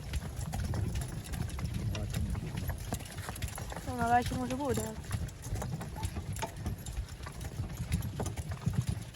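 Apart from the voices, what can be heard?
horses walking on snow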